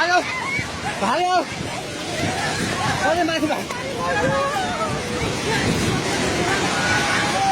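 A flash-flooding river in Nepal roars steadily beneath wind noise while several people speak and call out excitedly nearby.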